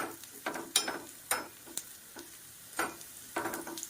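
Cumin seeds tempering in hot oil for a dry beans kulambu, with loud, close bursts of stirring scrapes and spattering sizzle coming in an uneven rhythm over a quieter frying background.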